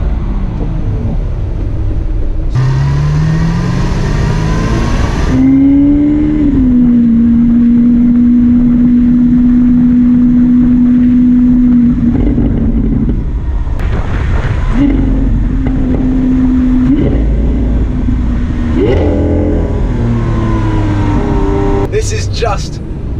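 A Lamborghini Aventador SV with a single-clutch 6.5-litre V12 revs loud and close, its engine note rising and holding steady through long pulls with brief lifts between, while a voice talks over it.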